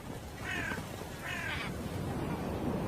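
Two harsh caws from crows circling a hunting eagle ring out in quick succession over a low, steady outdoor rumble, moderately distant and fairly faint.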